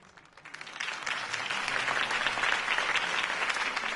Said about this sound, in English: could have heard that applause